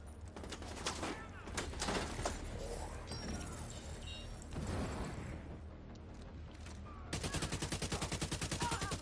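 Rapid bursts of gunfire crackle through a firefight in The Division 2, shifting between scattered shots and a steady machine-gun rattle near the end, with a voice talking over the din.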